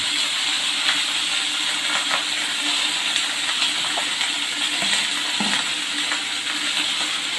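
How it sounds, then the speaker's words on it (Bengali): Chopped labra mixed vegetables drop into hot oil seasoned with panch phoron and ginger paste, setting off a steady, close, fairly loud sizzle and hiss that runs unbroken throughout, with no talking. "ফোড়ন গরম হয়ে গেছে, তেল গরম হয়ে গেছে, এখন আমি এই যে লাবড়াটা দিয়ে দিচ্ছি"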